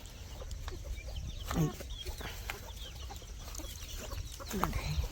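Native country chickens cluck softly in a coop, a few scattered clucks and short calls over a faint steady background, fairly distant and quiet.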